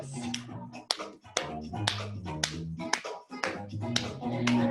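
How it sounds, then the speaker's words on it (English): Hand claps in a preschool ballet class, a handful of sharp individual claps spaced irregularly over a sustained musical accompaniment, with a voice briefly present. "Now, we're going to clap our hands."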